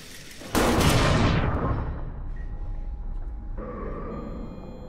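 A loud gunfire burst erupts in the horror game Amnesia: The Bunker, a dense blast that rings out and decays over a couple of seconds into a lingering rumble and hum.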